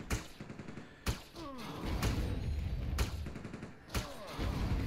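Gunfire in Entropia Universe aimed at a creature lands as sharp, spaced shots roughly once a second over a busy, rumbling game background, with faint voice-like sounds mixed in.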